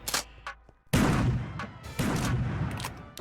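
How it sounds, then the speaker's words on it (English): Cartoonish shotgun blasts from a gun mod in Minecraft Bedrock, a couple of quick clicks followed by two heavy booming shots, each with a short rumbling tail, close and loud. "Just look at this shotgun,"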